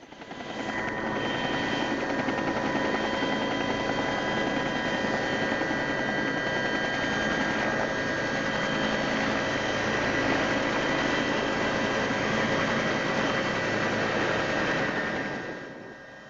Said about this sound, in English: I recorded the takeoff from both inside and outside the chopper.